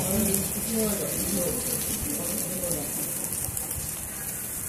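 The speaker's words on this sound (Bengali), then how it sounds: "নিয়ে এরকম করে একটা একটা করে আমি এই তেলের মধ্যে ছেড়ে দেব।" Batter-dipped slices of bread sizzle in hot oil, a dense steady crackle and hiss close by that holds through without a break.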